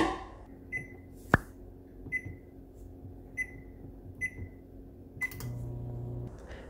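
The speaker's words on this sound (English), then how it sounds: "Now for the microwave" A microwave cooking potatoes for chips hums steadily while short, faint beeps and clicks repeat at regular intervals. No one speaks.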